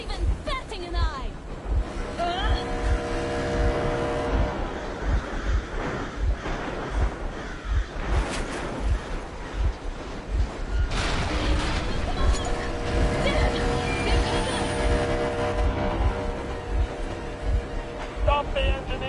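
A boat engine in Metro Exodus runs as a low steady rumble with a regular pulsing throb, continuous and fairly loud, with voices speaking over it.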